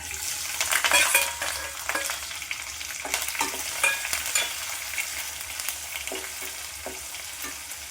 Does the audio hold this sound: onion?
yes